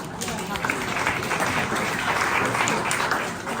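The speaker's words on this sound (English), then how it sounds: "You can clap." An audience applauds steadily for several seconds, a dense wash of clapping with voices murmuring underneath.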